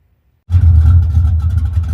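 A car with exhaust dumps fitted fires up after a brief silence and settles into a loud, deep, rumbling idle that carries on steadily.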